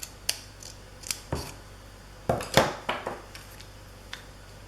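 Scissors cut paper for a scrapbook in a series of crisp snips, isolated at first and then bunched in a quick flurry partway through, close and fairly quiet.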